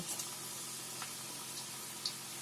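Spoonfuls of bhaji fritter batter dropped into hot frying oil give a faint, steady sizzle with a few soft pops and ticks, quiet and close.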